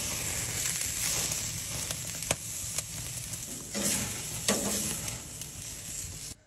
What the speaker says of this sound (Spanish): Le damos una sellada a la picaña.